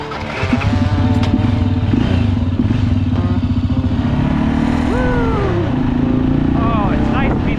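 A Janus motorcycle rides along with its engine chugging in a steady, close, loud rhythm that climbs in pitch as it accelerates, with wind and clatter around it and people speaking over the engine.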